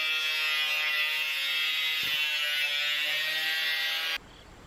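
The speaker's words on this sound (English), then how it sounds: "I'm just going to cut this with an angle grinder at this length here." An angle grinder cuts metal to length for a shop door awning, a loud, sustained high-pitched whine that holds steady for about four seconds before cutting off abruptly.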